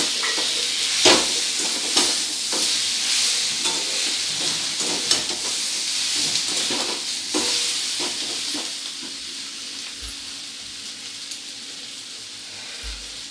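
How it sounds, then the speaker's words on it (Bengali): Spices sizzle and hiss in a hot pan with a splash of water while being stirred for a Bengali sour small-fish curry, with scraping stir strokes over a steady, fading frying hiss and a couple of low knocks near the end. "মশলাগুলো দিয়ে সামান্য একটু জল দিয়ে একটু কষিয়ে নেব"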